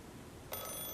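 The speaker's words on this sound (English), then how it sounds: "Just then, the phone rang." A telephone in the video game Assemble with Care starts ringing abruptly halfway through, a bright steady electronic ring over a faint hiss.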